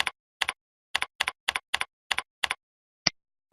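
Typing on a computer keyboard: about nine short, crisp double-clicks of keys in an uneven rhythm, then a single sharper tap, close and clear with silence between strokes.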